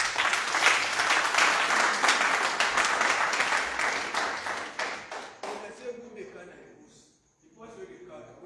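Audience applause at a ministerial appearance for the Information and Civic Education designate, loud and dense for about five seconds, then thinning to scattered claps and fading into quiet with faint talk.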